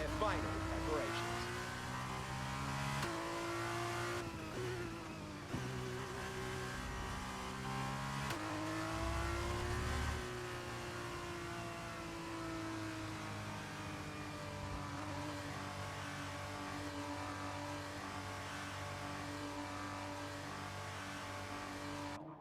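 Formula 2 race cars sit on the starting grid in a racing video game, engines droning steadily together with a few swelling revs early on, a continuous layered hum with no talking.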